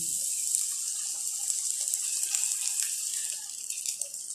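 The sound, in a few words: water poured into pan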